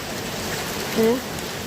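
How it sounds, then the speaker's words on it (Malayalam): Heavy monsoon rain pours down in a steady, dense wash of noise, close and unbroken, with a faint voice briefly rising above it. "ഇത് കണ്ടോ പെരും മഴ എന്ന് വെച്ചാൽ മഴ എന്ന് വെച്ചാൽ ഭയങ്കര മഴയായിരുന്നു"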